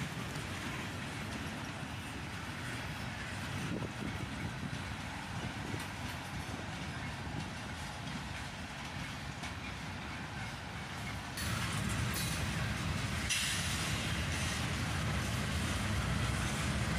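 A southbound Union Pacific freight train with a battered locomotive in the lead and an old Chicago and North Western boxcar rolls past as a steady, broad rumble that swells louder partway through, with no talking.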